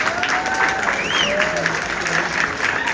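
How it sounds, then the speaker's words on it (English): Audience at a Q&A with Sean Cassidy applauding in a dense, steady wash of clapping, with a voice speaking and some whistling over the applause. "let's have a big round of applause for Sean Cassidy"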